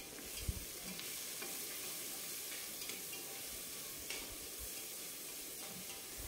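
Onion sautéing in a pan for soybean pulao, a steady faint sizzle and hiss with occasional soft stirring taps, continuous and close.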